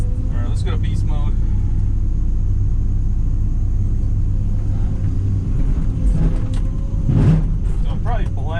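An excavator engine rumbles steadily throughout while it rips the corner of a road near a fenceline, a loud low drone with scraping and clanking bursts, and someone talks over it at the start.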